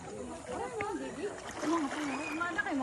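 Water laps and splashes steadily throughout, partly covered by people talking nearby.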